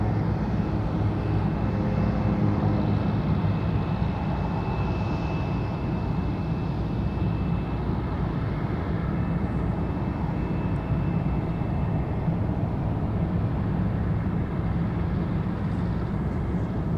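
An MD-83 jet airliner taxis and turns around at Anchorage Ted Stevens International Airport, its engines a steady, continuous rumbling drone with a faint high whine, heard without any talk.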